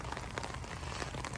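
Rain falls steadily on surfaces in rainy Vancouver, a dense, even patter of drops that is close and continuous with no voices.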